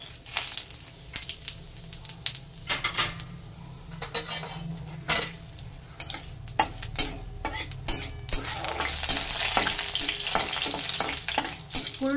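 Whole spices (bay leaf, dried red chilli, cumin, cinnamon, cardamom and cloves) sizzle in mustard oil in a pan, with a steady close crackle broken by repeated clinks and scrapes of a spoon stirring against metal.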